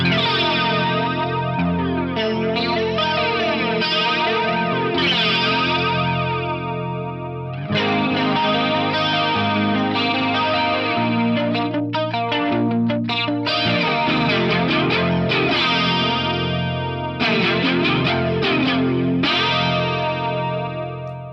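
Clean electric guitar strummed and picked through an Elastic Mattress chorus pedal, chords ringing continuously with a shimmering, wavering, doubled quality, played alone.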